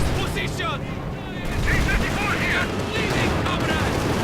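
Sturmovik attack aircraft strafing a Panzer IV in the World War II strategy game Company of Heroes 2, with sustained rattling gunfire and booming impacts running continuously over battle noise.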